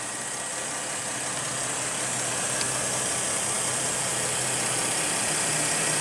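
A 2016 Porsche Cayenne with a 3.6 L V6 engine idling under an open hood, making a steady, even hum with a bright hissy top and no change in level throughout.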